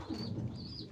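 Pigeon cooing in a breeder loft, a low continuous murmur from nearby birds with faint higher chirps above, steady throughout with no talk.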